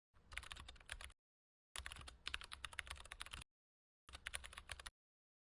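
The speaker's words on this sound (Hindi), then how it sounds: "इस बॉक्स में आपने फाइल का नाम टाइप करना है" Someone types a file name into a save box for a Word document on a computer keyboard, in three separate bursts of quick, close clicking keystrokes with short silent pauses between them.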